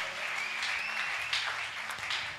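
Church congregation applauding during a French-language worship service, a brief burst of steady clapping with some cheering tones layered over it, lasting a couple of seconds.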